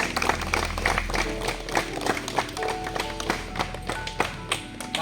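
An audience at a medical camp in a remote Naxal-affected area claps to welcome a doctor, a steady patter of many hands, moderately near, with faint voices under it.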